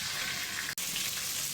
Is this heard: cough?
no